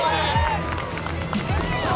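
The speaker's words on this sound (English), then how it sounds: "already we can hear the local crowd" A local crowd at the Tahiti Pro surf contest cheers and shouts from a distance under a commentator's voice, with faint applause mixed into the surf-side ambience.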